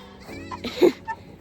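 A friendly farm goat lets out a short, wavering bleat, a little like a baby's cry, over quiet background noise, followed by a fainter second call.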